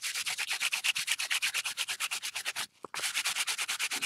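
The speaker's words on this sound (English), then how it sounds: "I'm going to dry a bit in between sanding though." Rhythmic, steady sanding strokes rasp across a painted surface, close and fairly loud, with a brief pause near the end before the scraping resumes.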